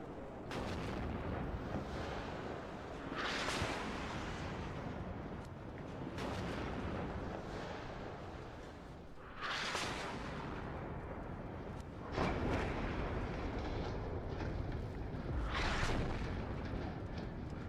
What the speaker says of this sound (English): So you're seeing some long-range strikes here.